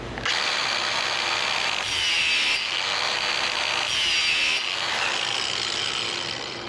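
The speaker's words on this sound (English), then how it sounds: "We'll do a quick little grind on this blade." An All American sharpener grinds a Honda mower blade, giving a steady, loud abrasive whir with brighter surges as the blade passes the wheel, running continuously with no talk.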